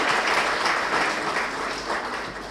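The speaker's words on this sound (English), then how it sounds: "Please a round of applause for her." An audience applauds the provost of a nursing college at an orientation, a dense, steady wash of clapping from many hands that carries on without a break and fades only slightly.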